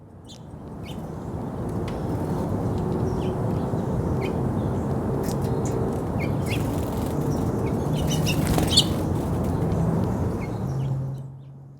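Birds gather around a camera setup outdoors, with scattered chirps and calls over a steady rustling, moderately loud ambience.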